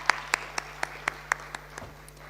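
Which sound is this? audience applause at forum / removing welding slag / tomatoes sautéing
audience applause at forum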